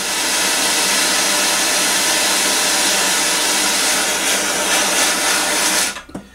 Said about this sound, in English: I'll heat it up just a little bit more.